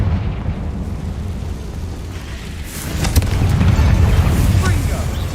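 The Confringo blasting spell from Hogwarts Legacy bursts in a heavy explosion with a deep rumbling boom that swells and lingers amid game effects.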